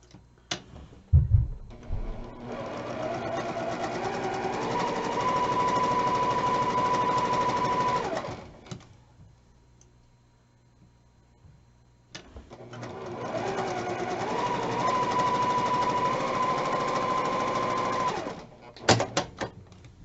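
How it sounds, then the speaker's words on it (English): A sewing machine stitches half square triangles for a quilt in two long sustained runs, each several seconds of steady whirring, separated by a brief quiet pause with small clicks at the starts and ends. "we're going to sew again on the left and the right side of that line about 1/4 inch"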